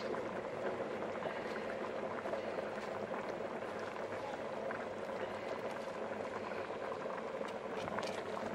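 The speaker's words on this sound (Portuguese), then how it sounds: "Vamos adicionar as lentilhas." Rinsed canned lentils tipped into a cooking pot for a vegan dinner, a steady hissing, bubbling wash of liquid and sizzle filling the whole stretch, no talk over it.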